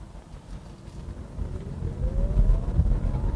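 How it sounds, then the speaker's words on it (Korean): A Kia Niro Plus pulls away under hard throttle, its drive note rising steadily in pitch over low road and wind rumble as the car gathers speed. "이렇게 엑셀 페달에 힘을 좀 주면은 차가 튀어나가는 맛이 생각보다 괜찮아요"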